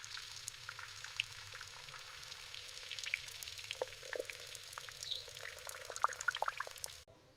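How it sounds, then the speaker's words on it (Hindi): Hot oil sizzles and crackles softly with scattered small pops as puris fry, steady and close, with no voices. "अब गरम तेल में पूरियां डालें।"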